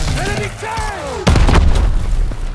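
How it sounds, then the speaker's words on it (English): Distant flak from anti-aircraft guns in a Call of Duty WWII battle, a dull booming burst that swells up suddenly behind a swooping aircraft whine and keeps rumbling loudly for over a second. "That's flak fire in the distance."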